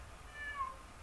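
A soft, short cat meow in modded Minecraft, faint and distant, over a low background hum.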